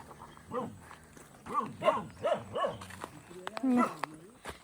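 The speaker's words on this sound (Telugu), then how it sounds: "చక్కగా కొత్తలను చూడగానే అరుస్తూ ఉంటాయి ఇవి." Two guard dogs watching over a farm field bark at strangers: a run of about six sharp, loud barks with a short whining yelp at the end, fairly close and with no one talking.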